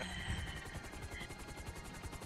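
A helicopter in Grand Theft Auto V thrums with a rapid, steady rotor chop that stays fairly close and even throughout, heard alone with no talking.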